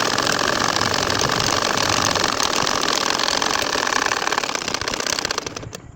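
A home sewing machine runs steadily, stitching a baby quilt (kantha) in straight lines, its motor hum loud and continuous before easing off near the end.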